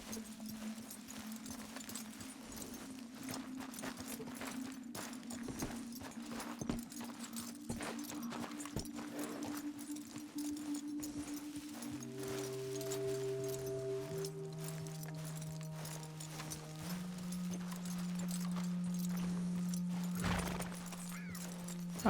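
Horse hooves clip-clopping steadily in the Red Dead Redemption 2 game, a soft, even walking rhythm throughout with low background music tones.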